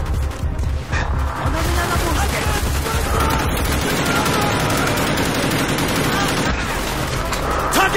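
Dense, continuous gunfire in Call of Duty: Black Ops rattles on without letup, with machine-gun bursts and crashing impacts layered together and soldiers' voices shouting under the barrage.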